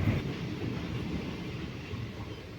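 A Nagercoil Intercity Special train runs in sleeper class past Pettah near Thiruvananthapuram, giving a steady, loud rolling rumble with no talk.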